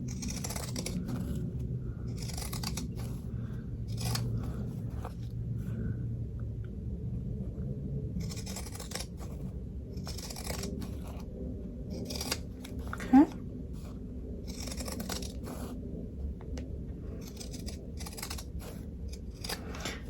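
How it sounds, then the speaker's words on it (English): Quiet snipping of scissors cutting around in-the-hoop machine-embroidered fabric for a pinwheel, soft repeated cuts over a low background hum, with a faint voice now and then. "Just using these scissors."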